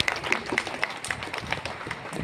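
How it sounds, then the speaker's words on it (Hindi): Scattered clapping from a college audience welcoming a doctor to the stage, a modest, uneven patter of hands with sharp individual claps standing out over room noise. "जोरदार तालियों के साथ उनका स्वागत कीजिएगा।"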